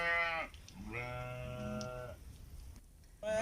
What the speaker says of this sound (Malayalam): പല സൈസിലുള്ള ആടുകളാണ് ഇവിടെ വളർത്തുന്നത്.